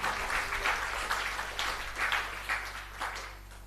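Audience clapping at a Telugu Christian sermon on fasting prayer, a steady wash of many hands in rhythmic swells, fairly loud and continuous with no talk over it.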